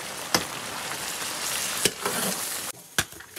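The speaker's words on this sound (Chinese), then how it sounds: "炒个萝卜丝吃。" Shredded radish is stir-fried in a hot wok, giving a steady close sizzle broken by a few sharp clacks of the spatula against the wok.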